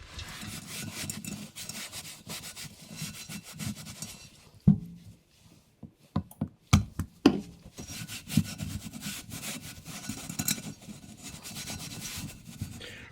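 Steady rag-on-metal rubbing as flaxseed oil is worked over cast iron cookware, continuous scraping strokes that break into a few sharper scuffs and knocks midway, close and fairly quiet with no voices.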